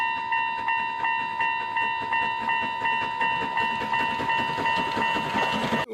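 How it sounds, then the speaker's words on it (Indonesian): A Thomas the Tank Engine toy train runs with a steady rhythmic clickety-clack and a sustained whistle-like tone, close and continuous throughout. "Ini adalah kereta api Thomas."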